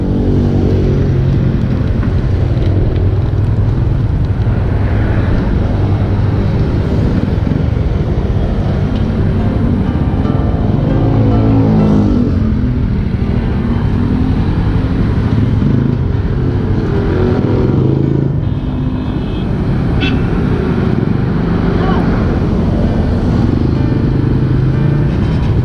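A motorcycle engine drones continuously while riding, a loud steady rumble with rushing road noise and slight shifts in pitch.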